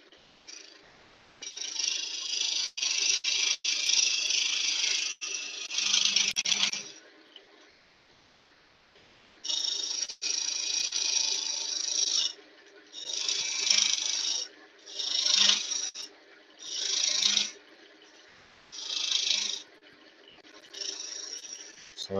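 A woodturning tool cuts a square dovetail recess into a bowl spinning on a lathe, giving harsh, hissing scrapes in long and short bursts separated by brief pauses.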